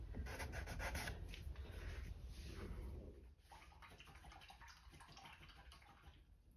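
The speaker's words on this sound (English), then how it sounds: "Rinsing my brush out." Paintbrush being rinsed and swished in a water cup during an acrylic forest painting session, a close, steady scrubbing and sloshing that softens after about three seconds, with no talking.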